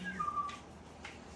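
A person whistles a short imitation of a bird call in a quiet room during a gong bath sound healing session: a brief thin whistled phrase followed by faint soft noises.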